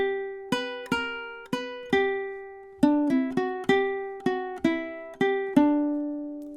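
Ukulele plays measures 17 and 18 of a song, a close, bright run of roughly fifteen plucked notes and chords in a lilting rhythm, each ringing briefly with no voices over it.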